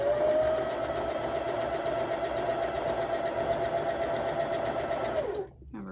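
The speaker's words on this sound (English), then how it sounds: "and sew this side." A sewing machine stitches quilt block fabric in one steady, continuous whirring run that stops abruptly near the end, loud and close with no talking.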